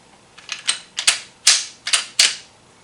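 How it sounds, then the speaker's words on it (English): A firearm action cycling with a suppressor fitted, heard as a series of sharp metallic clacks and snaps in quick uneven pairs, close and crisp, with no talking. "you're going to have the sound of your action."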